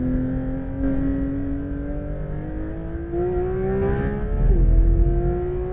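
A Porsche 911 GT3 RS roars around a race track, its engine note climbing steadily through the revs in one long sustained pull, loud and close, with a brief shift near the end.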